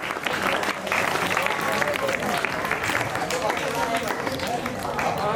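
Students applauding loudly at a school Independence Day ceremony, a dense sustained roar of clapping from a large crowd, with a voice speaking over it.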